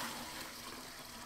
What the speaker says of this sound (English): just pour all the wine back to the bucket